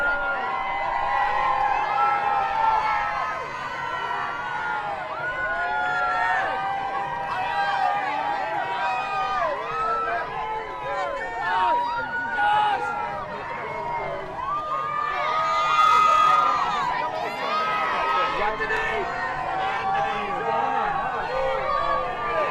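A large crowd cheers and shouts as the LSU Tigers arrive on campus after winning the 2025 national championship, with sustained roaring and whooping, excited voices and babble close by, and some talking mixed in.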